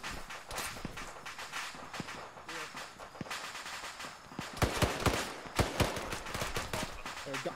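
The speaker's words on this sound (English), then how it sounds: "Gunfire rear." Rapid bursts of gunfire crackle in uneven volleys, growing louder and denser partway through, with scattered sharp shots amid background clatter.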